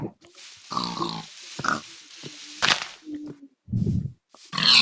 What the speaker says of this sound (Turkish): Domuz gel buraya.